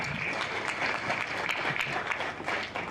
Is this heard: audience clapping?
yes